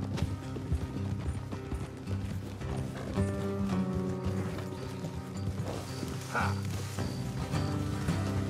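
Rhythmic horse hoof clip-clops in Red Dead Redemption 2 under a layered music score, moderately loud, with occasional creaks and a brief whinny-like tone.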